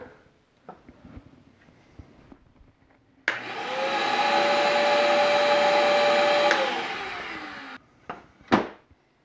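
An electric motor powered by a DIY 3.5kWh solar generator with a battery starts abruptly, runs with a loud steady whine and hum for about three seconds, then spins down. Softer handling clicks and clunks come before and after.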